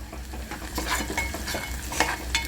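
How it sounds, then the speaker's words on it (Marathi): Onion fries in oil with cumin for a peas rice dish, a brief burst of sizzling under repeated spoon clinks and stirring scrapes, close up and with no talking. "कांदा मस्त इथे भाजते"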